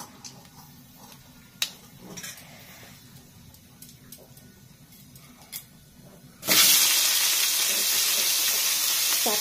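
Tomatoes hit hot oil tempered with mustard seeds and five-spice for a chutney, bursting into a loud, sustained sizzle after several seconds of quiet kitchen clatter.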